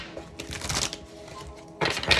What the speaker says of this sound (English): I'm going to shuffle these cards on site